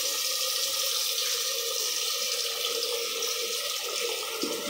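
Mushrooms being washed under a steadily running kitchen tap, water splashing continuously into a sink, close and fairly loud with no talking.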